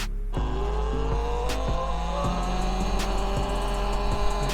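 Talaria electric dirt bike running with its side cover removed, a steady mechanical whine and hum with a rising electric motor tone and faint periodic ticks, close and continuous, no voices.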